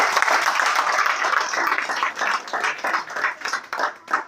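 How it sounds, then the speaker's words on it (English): A church congregation claps for Jesus at a worship service: a full burst of applause that breaks into looser, uneven individual claps as it fades toward the end. "Shall we clap for Jesus?"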